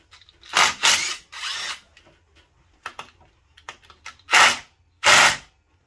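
A power tool drives bolts on the engine retainer plate of an LS-swapped Nissan 300ZX during a cam and valve spring swap. Several loud, short whirring bursts are separated by brief pauses, and no one speaks.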